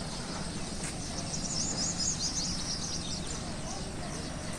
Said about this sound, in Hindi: हर पासों आवाज है चिड़िया दी